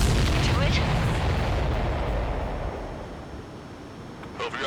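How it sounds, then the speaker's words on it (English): A large explosion follows a missile strike in the Ace Combat 7 video game: a loud, deep, broadband roar and rumble that slowly fades over several seconds, with a faint crackle returning near the end. "Everybody, keep a safe distance to avoid getting caught in the explosion."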